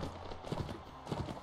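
Horse hooves clip-clop steadily in a medieval combat game, with rapid, rhythmic beats at moderate loudness over a dense background of battle noise.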